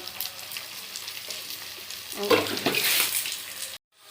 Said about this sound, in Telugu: ఇప్పుడు ఉల్లిపాయలు బాగా వేగిపోయాక వంకాయలు దీంట్లో వేసేసుకుందాం